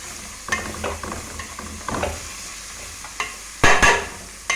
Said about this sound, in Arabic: هقلب فيها الجزره بس دقيقه